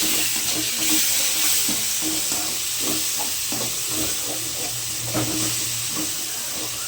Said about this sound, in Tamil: இஞ்சி பூண்டோட பச்சை வாசனை போகட்டும், அது வரைக்கும் கிளறிக்கோங்க